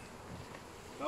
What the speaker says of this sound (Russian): Как пчелиный рой, мухи жужжат.